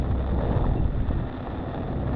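Strong typhoon wind buffets the microphone on a street in Taipa, Macau, a dense steady roar of gusts and rain-like hiss with no voices.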